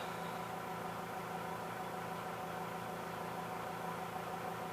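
A Troy-Bilt tiller engine with a worn friction disc runs steadily at a constant idle, its even mechanical drone and vibration holding unchanged throughout with no voices.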